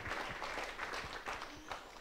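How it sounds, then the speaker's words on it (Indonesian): Audience applause after a research presentation, a modest round of clapping heard at low level throughout, with no talk over it. "Beri tepuk tangan."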